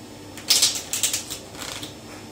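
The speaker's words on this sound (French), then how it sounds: "On va se refaire un mélange américain." A deck of playing cards riffle-shuffled by hand, giving a quick burst of crisp, fluttering card riffles about two seconds long, close and fairly soft, with no talking.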